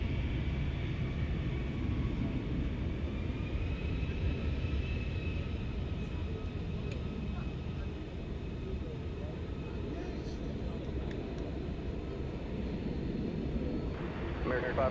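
An airliner taking off from runway 18 left at Dallas Fort Worth Airport at night, a steady, loud low engine roar and rumble sustained throughout with faint tonal whine above.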